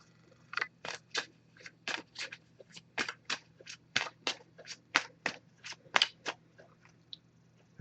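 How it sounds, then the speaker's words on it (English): An oracle card deck shuffled by hand, a run of about twenty distinct crisp card snaps in an even rhythm, close and quiet with no talk. "I'm just going to give this a few shuffles."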